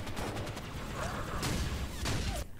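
The Halo brute shot weapon fires in a fan animation as heavy, punchy blasts over a dense, noisy action soundtrack, with two prominent bursts standing out near the end.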